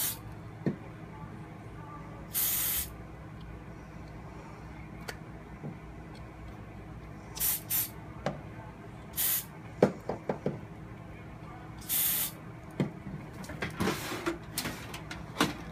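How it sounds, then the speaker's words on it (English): A mold for an eternity ring with prong and gallery being sprayed with release spray: about five short hissing bursts spaced a few seconds apart, close by, over quiet room noise. "make sure you spray it."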